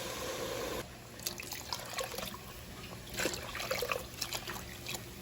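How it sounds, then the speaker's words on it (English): Water, six cups of it, is poured into a soup pot holding a butter and flour base for shrimp boil soup, heard as a steady trickling splash with brief louder gushes. "Now we're gonna add in 6 cups of water."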